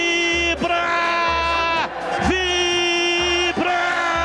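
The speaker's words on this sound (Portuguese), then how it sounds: "A torcida vibra" A stadium crowd roars after a goal at a Brazilian football match involving Guarani, with a loud, continuous wall of sustained chant-like tones and steady low thumps running underneath.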